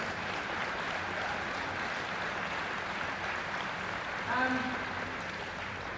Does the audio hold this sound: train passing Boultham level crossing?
no